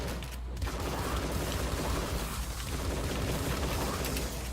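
Shotgun blasts and gunfire fill the Tesla vs Lovecraft video game action in a dense, continuous barrage of loud bursts, with no talk.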